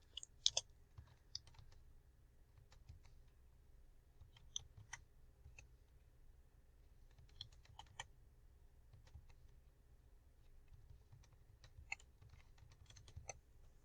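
Computer keyboard typing while entering figures into a spreadsheet: irregular clusters of light key clicks spread across the whole stretch, close but soft over a low steady hum.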